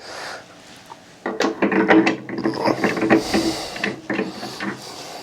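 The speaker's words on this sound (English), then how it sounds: "I want to put the discharge head back in." A discharge head is fitted onto a GSEICE soft serve ice cream machine, giving close, irregular bursts of plastic and metal clicking, scraping and ratcheting after a quiet start.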